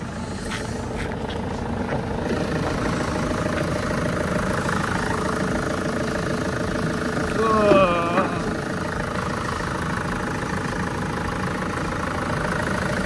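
A tidy St John ambulance van sits with its engine idling in a steady, fairly loud hum, and a voice speaks over it now and then.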